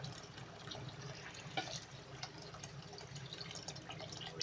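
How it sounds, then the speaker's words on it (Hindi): Water pours from a tap into a pot of potato biryani mixture with green chillies, giving a soft continuous trickle and splashing at close range over faint kitchen background. "इधर हम पानी भी शामिल करेंगे जितनी हमें रिक्वायर्ड है"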